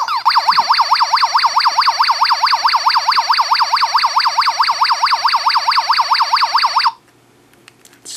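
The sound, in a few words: Space Invaders LCD handheld video game sounds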